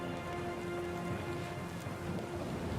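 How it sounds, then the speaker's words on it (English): Steady heavy rainfall with a low rumbling thunder undertone during a storm at sea in the fantasy game Pillars of Eternity II: Deadfire, continuous and even in loudness with no one speaking. "The storm picks up, lashing your ship and driving you dangerously close to a rocky shore."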